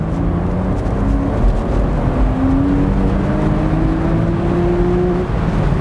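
A Porsche Boxster's engine pulls hard through second gear, a steady, loud climbing drone with rising harmonic whine heard from inside the car, sustained without a break.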